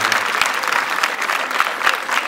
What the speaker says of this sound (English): give him just a continuous clap up to when I say stop. Just clap.